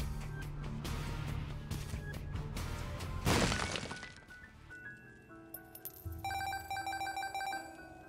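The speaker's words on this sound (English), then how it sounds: "Sorry about the notifications, chat." Stream notification sounds over game audio during a live stream: a burst of crashing noise, then bright chiming ringtone-like tones repeating through the last seconds, moderately loud.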